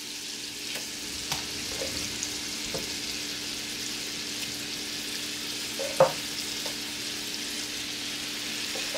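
Shrimp fry in a pan, heard as a steady, moderate sizzle throughout, broken by scattered light clicks and one sharper knock of a utensil near the middle.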